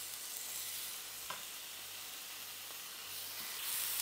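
Chicken meat dropped into a hot frying pan with mushrooms nearby, a loud continuous sizzle and crackle with a few brief scrapes of stirring, close up and without voices.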